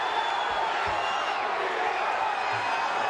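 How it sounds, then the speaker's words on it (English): UFC fight crowd in Lake Charles, Louisiana, cheering and whooping as a steady roar fills the arena, with a few low thumps and scattered shouts rising over the din. "Crowd is on their feet here in Lake Charles, Louisiana."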